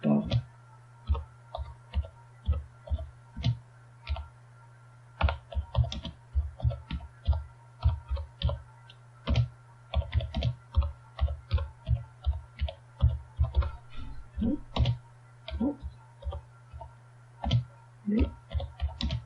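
Keys on a computer keyboard are typed in quick, irregular bursts of close clicks, with short pauses between words and a steady low electrical hum underneath.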